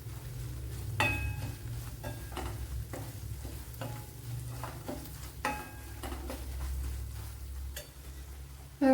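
Spice powders, asafoetida and salt frying and being stirred in a pan for rambutan pickle: a steady low sizzle with repeated scraping strokes of a spoon against the pan throughout.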